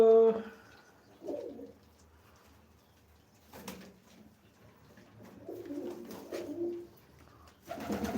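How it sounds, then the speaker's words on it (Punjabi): Soft pigeon coos come in a few short bursts with quiet gaps between, fairly close and gentle at their coop, with no talking. "ਪੰਜ ਕਬੂਤਰ ਚਲੇ ਗਏ ਜੀ ਖੁੱਡੇ 'ਚ"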